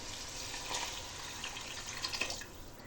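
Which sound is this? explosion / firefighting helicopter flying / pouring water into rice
pouring water into rice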